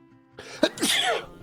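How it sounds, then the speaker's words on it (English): One person sneezes: a quick breathy intake, then a sharp burst and a longer hissing release, close and fairly loud, with no talking. "I'm gonna sneeze"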